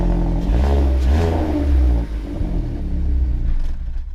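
A car engine revs hard in repeated bursts with a deep rumbling exhaust while soapy water spits from the tailpipe during a wash, loud and close, easing briefly midway before revving again.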